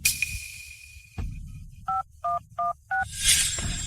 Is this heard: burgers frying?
no